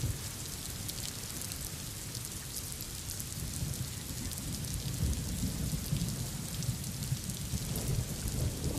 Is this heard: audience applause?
no